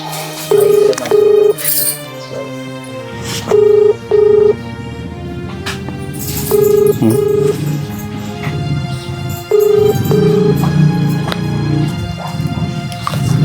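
Repeated pairs of short electronic tones beep at intervals as a phone number is dialed, like keypad presses, over a steady background hum.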